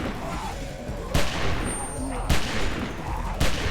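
Three heavy gunshot blasts ring out in a video game at roughly one-second gaps over a constant rumbling backdrop. Each shot is loud and sudden, with game noise and some talk in between.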